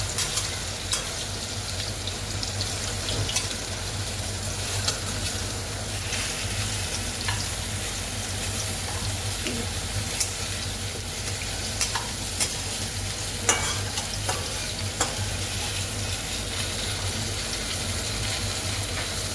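Potatoes frying in hot oil, a steady dense sizzle and crackle close by with occasional stirring clicks, continuous throughout with no voices.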